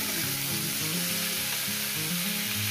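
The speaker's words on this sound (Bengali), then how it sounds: "সবজিটা ভাজবো 5 মিনিট ধরে" Mixed vegetables frying in a pan for a Bengali chachchari with katla fish roe, a steady broadband sizzle with low rumbling hum running continuously and loud throughout, no voices.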